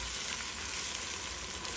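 Onion, ginger and garlic fry in a pan for a meat and potato bhuna, a steady, dense sizzle that is close and even throughout, with no talking.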